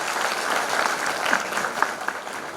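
An audience applauds a school principal at a formal function, a steady, dense wash of clapping from many hands that stays even throughout, with no voices above it.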